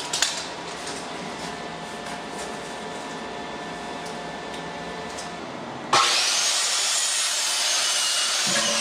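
A handsaw cuts through wood to trim it to size, a steady back-and-forth rasp close by, then stopping with a sharp change in sound.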